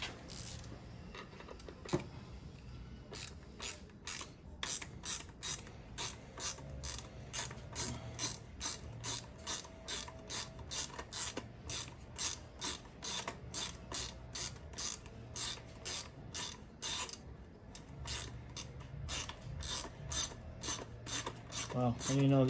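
A long screwdriver works a headlight screw loose on a Royal Enfield Interceptor 650, giving a long, steady series of close ratcheting clicks with a grinding, scraping texture and no voices.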